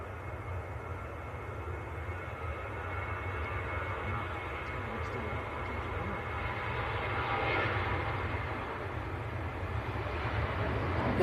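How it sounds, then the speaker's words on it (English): Airbus A330 jet taxiing out at Manchester Airport, a steady low engine rumble and broadband roar held at moderate distance, swelling slightly louder toward the end. "Also got another A330 taxiing out of Jet2."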